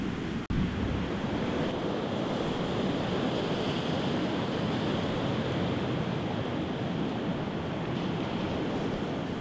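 Surf rolls in steadily on Aberystwyth's dark black sand beach, a dense continuous roar of breaking waves mixed with wind buffeting the microphone, with no voices.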